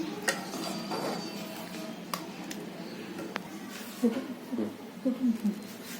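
Cooked shengole made from kulith flour are lifted out of a pan onto a plate, with soft clinks of utensil on metal and a few scraping, squishy sounds under a voice.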